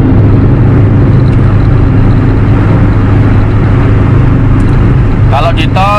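A 2001 Hyundai Atoz accelerating hard on a toll road, a loud steady in-cabin engine drone and road roar filling the whole stretch, with a voice talking over it.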